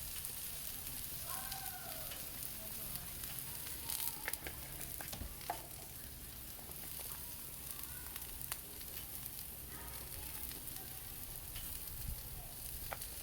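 French fries sizzle steadily on a Blackstone griddle, a constant close crackling hiss with scattered pops and a few scraping stirs, no talk over it.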